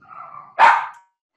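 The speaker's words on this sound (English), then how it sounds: "And there's the dogs." A dog gives a short whine followed by a single sharp, close bark, loud and alone.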